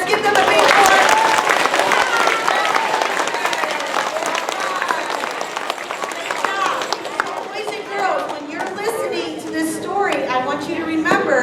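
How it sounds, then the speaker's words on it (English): A school Christmas program audience applauds loudly and continuously, the dense clapping of a large crowd fading slightly toward the end as chatter and voices rise beneath it. "So let's give them a big applause."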